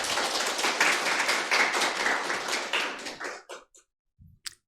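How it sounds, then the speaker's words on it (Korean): A church congregation claps together during a Sunday service, a sustained wash of many hands for over three seconds that then thins to a few scattered final claps and silence. "우리 하나님께 영광의 박수 올려드리겠습니다"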